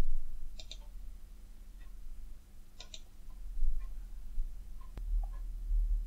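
Computer mouse clicks while saving a document, a few sharp isolated clicks spaced apart over a quiet background hum, close and fairly faint, with no talk.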